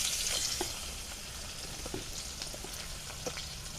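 Onions go into very hot oil over a strong flame on a village clay stove, producing a soft, continuous sizzle with faint spattering and a few light clinks, no talking.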